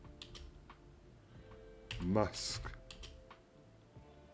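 A computer keyboard is tapped in a few quick keystroke clicks and a short burst, close and fairly quiet, under someone speaking.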